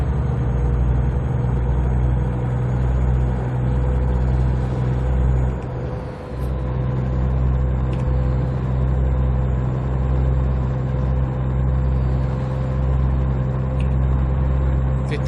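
A heavy truck engine drones steadily in American Truck Simulator, a loud, constant low rumble with a brief dip in the middle as a gear shift happens, then the drone returns at the same level.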